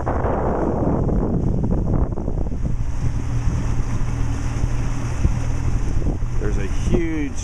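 Fishing boat engine running steadily on Lake Norman, a constant low drone mixed with wind buffeting the microphone, and a voice briefly speaking near the end.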